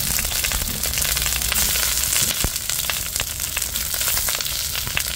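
Eggplant fries in canola oil, giving a loud continuous sizzle with dense crackling pops throughout.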